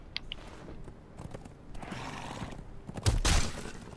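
A horse neighs and gallops in the video game Conan Exiles during a jousting match, with a short whinny followed by a louder burst of hooves and clattering impact near the end.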